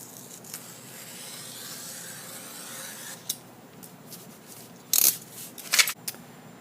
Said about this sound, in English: take a ruler and whatever width stripe you want, and use an X-Acto knife to cut that.